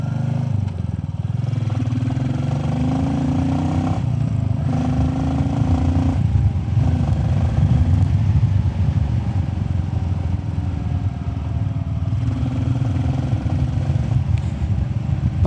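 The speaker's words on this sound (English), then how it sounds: "So for sure the DNA filter makes the Royal Enfield Classic a little bit more noisy." A Royal Enfield Classic 350 single-cylinder motorcycle fitted with a DNA air filter and FuelX Lite runs with a steady, deep thumping engine note, loud and close, rising and easing through several throttle changes over the full length.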